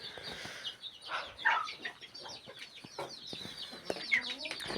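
Chickens clucking and calling close by in a nest area, a steady run of short squawks and clucks with some wing flutter over about five seconds, no talk.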